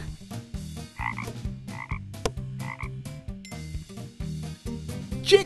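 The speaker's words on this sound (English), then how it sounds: "A frog!" A frog croaks in a quick repeated rhythm, loud and near, with short rasping calls arriving in steady bursts and no voices.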